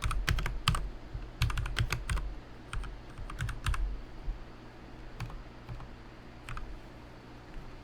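Rapid clicking keystrokes on a computer keyboard come in short uneven bursts with brief pauses, close and fairly loud over a low steady hum.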